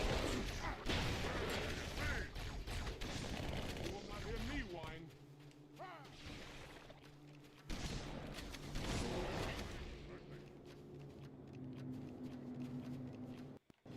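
Turret gunfire pounds against the Flood in a video game, bursts of shots and mechanical clatter mixed with game effects and a person talking over it, easing off toward the end.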